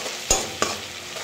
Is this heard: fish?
yes